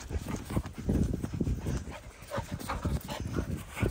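A dog moves about in the first snow, making a series of soft, close, uneven thumps and shuffling sounds with brief whimper-like noises, loud and irregular throughout, with no speech.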